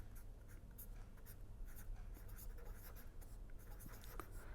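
Pen or chalk writing during a lecture on Hidden Markov Models, a faint, steady scratching with short strokes and taps, heard alone without talk.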